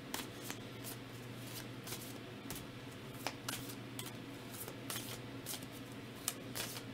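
Tarot cards get shuffled by hand in a run of soft, quick flicks and riffles, faint and close in a quiet room, without talk.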